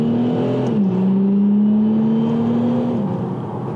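An Audi A5 3.0 TDI quattro with a gearbox remap pulls away hard from a standstill. The diesel engine roars loud and close, its tone climbing, dipping briefly at a gear change, then rising steadily again before easing off.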